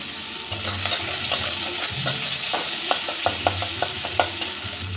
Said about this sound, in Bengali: এবার এই তেলে দিয়ে দেবো একটা বড় সাইজের পেঁয়াজ কুচো করে নিয়েছি।